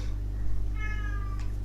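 A kitten meows once in a clear, rising-and-falling cry indoors, close and distinct over a steady low electrical hum.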